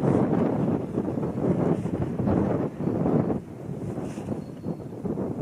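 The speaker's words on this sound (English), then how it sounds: "This wind is driving me nuts." Wind buffeting a microphone outdoors at a shooting range, a loud, continuous low rumble that swells and dips in gusts, with no other sounds standing out.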